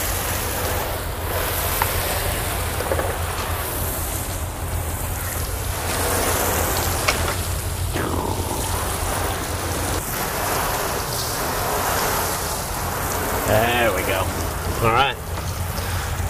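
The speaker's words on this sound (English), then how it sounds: "I'm going to go ahead and give it a final rinse." Water sprays from a hose, rinsing soap suds off a car after a wash. A steady close hiss runs throughout, with people talking over it.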